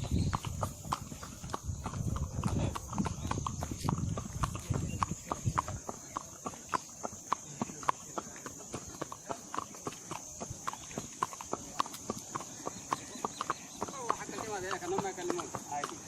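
A ridden horse's hooves clip-clop in a steady walking rhythm on asphalt, close and continuous, with a constant high hum and some low rumble early on.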